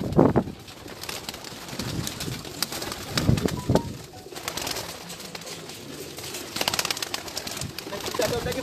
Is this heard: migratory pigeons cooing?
yes